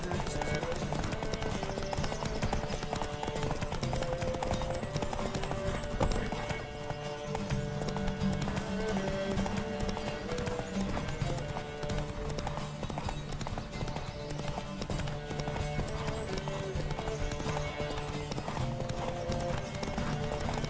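Steady clip-clop of galloping hooves in The Witcher 3 video game runs under a dense musical score, with occasional shouts and a whinny-like call; loud and continuous throughout.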